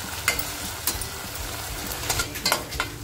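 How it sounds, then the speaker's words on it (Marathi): Onions fry and sizzle steadily in a pan for a village-style mutton masala, with sharp scraping clicks from stirring. The sizzle is loud and close. "आपल्याला कांदा आहे ना साधारण लालसर करून घ्यायचा आहे"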